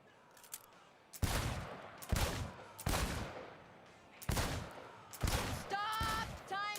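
Gunfire at a shooting range in Cyberpunk 2077: five sharp, loud bursts at a steady pace, each with a short ringing tail, and a brief voice-like tone at the end.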